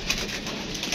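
A strong female racing pigeon wearing a numbered leg band coos once, close by, in a brief soft call over a steady background hiss.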